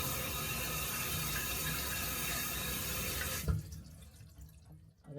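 Tap water rushes steadily into the right-hand basin of a kitchen sink for about three and a half seconds, then cuts off, leaving a quiet room with faint trickles.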